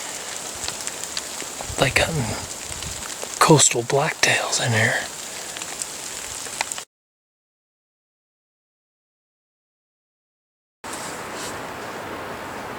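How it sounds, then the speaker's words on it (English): Heavy rain pours down on a coastal blacktail deer hunt, a steady close hiss under a man's spoken words, cutting out briefly before resuming. "Raining pretty hard."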